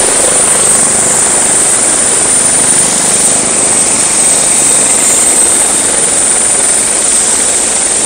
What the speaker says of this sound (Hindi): और यहाँ पर एक और हेलीकॉप्टर